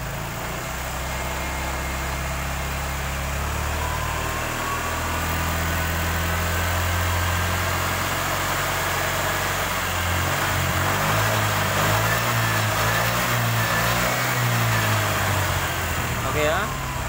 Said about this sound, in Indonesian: Kita coba gas agak tinggi.